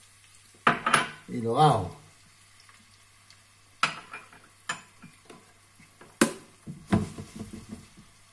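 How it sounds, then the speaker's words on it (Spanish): Chopped onion dropped into a pan for Andalusian-style asparagus porrilla, with clattering pots and utensils in irregular bursts, a soft sizzle beneath, and a brief spoken remark. "vamos a echar ya la cebolla"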